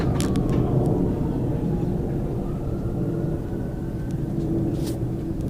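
A steady, loud low roar of an airplane flying overhead into stormy clouds, continuous throughout with no talking.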